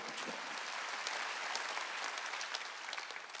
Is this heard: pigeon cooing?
no